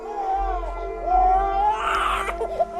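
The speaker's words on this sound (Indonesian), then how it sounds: "Seketika suara tangisan itu kembali terdengar." An infant cries in a horror story setting, a wavering, sobbing wail that rises louder toward the end over a low steady hum.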